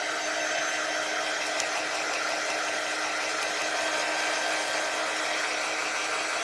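Hair dryer blowing steadily at close range, drying chalk paste on a wooden craft flip sign; a continuous, even whoosh with no voices.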